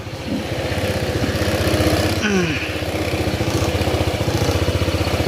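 Honda PCX scooter engine idling after CVT cleaning and a belt replacement, with a complaint of added engine noise; a close, steady pulsing rumble runs throughout, and a brief voice sounds partway through.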